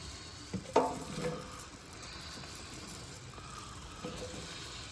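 Mushrooms for Philly cheesesteak sandwiches frying in a pan, with a sudden burst of sizzle as they go in, settling into a quiet steady hiss with a few soft stirring clatters.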